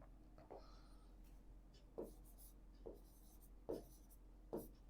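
Chalk or marker writing on a classroom board during a maths lesson, several distinct scratchy strokes spaced about a second apart, close and quiet over a low hum, with no talk.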